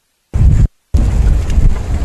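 Rain falling during a safari drive, a brief close burst of noisy patter, a short gap, then a steady loud wash of rain and wind buffeting.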